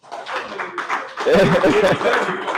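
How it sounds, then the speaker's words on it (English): A short burst of scattered clapping from a small group, fairly close, with voices and laughter mixed in. "Please, can we just put a hand of applause for him, please?"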